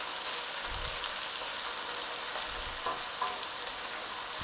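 Butter prawns sizzle steadily in a pan as lemon sauce is stirred through them, a constant frying hiss with a few soft spoon scrapes and low bumps near the start and middle.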